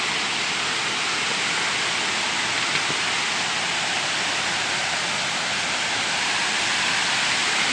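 Broadband steady roar of a tall waterfall at Cambuco in Jussaral, heard close and constant with no pauses, like heavy rushing water pouring down rocks.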